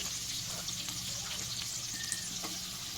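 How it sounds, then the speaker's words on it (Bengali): Chopped onions and capsicum frying in hot oil in a pan, a steady dense sizzle throughout with occasional faint stirring scrapes, no speech. "তেলটা যখন গরম হয়ে গেছে তখন আমি পেঁয়াজগুলো দিয়ে দিয়েছি"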